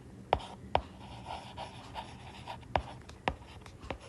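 Pen strokes scratching on paper while working a class 9 maths example, sharp separate taps and scribbles at an irregular pace, close and fairly quiet, with no voice.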